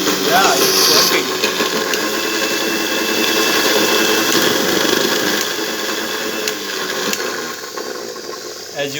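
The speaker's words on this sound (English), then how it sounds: "So now we have reassembled the grinder again. Hope it will work fine." A reassembled mixer grinder runs with a continuous high whirring motor whine and hiss, loud and steady throughout, easing slightly toward the end; speech may be mixed in beneath it.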